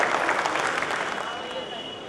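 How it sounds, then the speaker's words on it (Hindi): Sustained audience applause fills a poetry gathering hall where ghazals are recited, dense steady clapping from many hands, loud and continuous, gradually tapering slightly toward the end. "जोरदार तालियों से"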